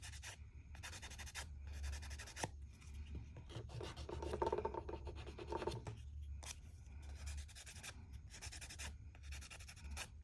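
Fingernails being sanded with a nail file, heard as close, quiet rasping strokes in bursts separated by short pauses, with a soft breath-like rub partway through.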